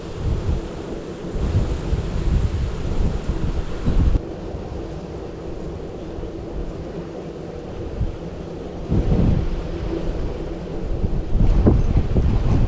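Gusty wind buffets the microphone beside a pond during late-winter crappie fishing in New Jersey, a continuous low rumbling roar that surges and eases in strength.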